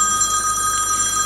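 Telephone ringing during a Hungarian poetry and song program, a steady electronic ring with sustained tones held continuously through the moment, no one speaking over it.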